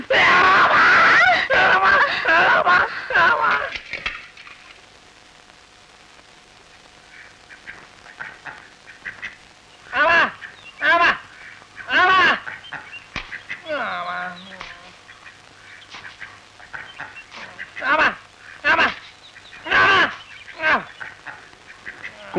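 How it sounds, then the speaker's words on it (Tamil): Ducks give a loud burst of overlapping quacks at first, then sharp separate quacks come every second or two over a quiet background. "அது வாத்துங்க."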